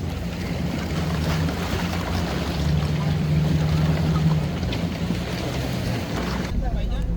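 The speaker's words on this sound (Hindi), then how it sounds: "गाइस ये बोट हमने भी रेंट पे ली है। इस पे हम पूरे अत्ताबाद लेक का विज़िट करेंगे।" Steady engine drone of a rented boat out on Attabad Lake, with wind buffeting the microphone and water rushing past throughout, a constant close hum that cuts off abruptly near the end.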